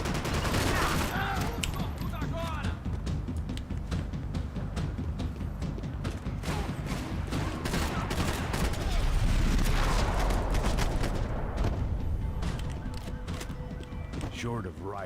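Dense, sustained gunfire in the video game Max Payne 3, with rapid bursts of shots and sharp cracks crowding over one another throughout a loud firefight.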